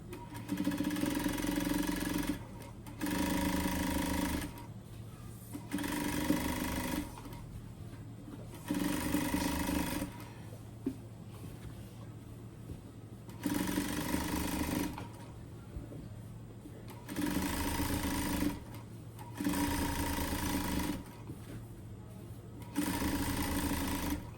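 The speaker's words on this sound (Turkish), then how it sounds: "Yan üst dikişlerini çekiyorum" An industrial sewing machine runs the side top seams of a tracksuit in repeated bursts of several seconds each, separated by short pauses. The whir is loud, close and steady, and no one talks.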